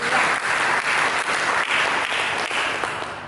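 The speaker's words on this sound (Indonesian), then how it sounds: "Berikan tepuk tangan bagi." A church congregation claps together in a sustained burst of applause during a sermon, the dense clapping holding strong throughout before easing slightly toward the end, with no voices over it.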